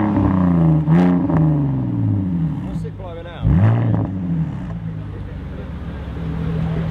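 A BMW Z4 E89 at a car meet at the Ace Cafe in London revs hard through a loud exhaust, with repeated rising and falling blips close by while people talk over it.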